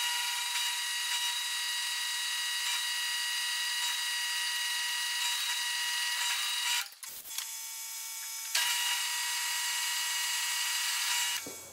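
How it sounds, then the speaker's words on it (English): A power drill bores a bolt hole through a metal plate for a spare tire rack, a steady high whine running continuously with a brief dip and pause near the end, no talking. "So let's go ahead and get that drilled and marked"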